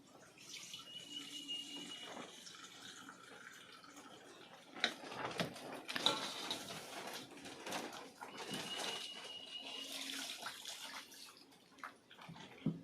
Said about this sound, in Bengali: আমি এই জলটা ফেলে দেব